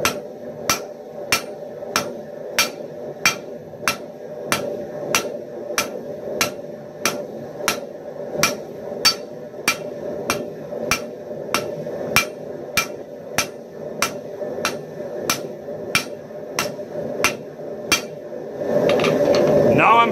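A hammer strikes hot metal on an anvil while drawing out a taper for a herb cutter: about thirty sharp, ringing, evenly spaced blows, close and loud, then a rushing roar takes over at the very end.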